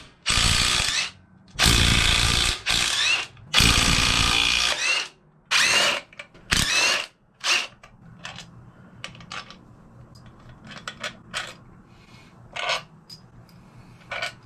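A power tool whirs in several short bursts, loud at first and then fainter and choppier, as the five inner primary bolts are removed from a Harley motorcycle, with metallic clinks between runs.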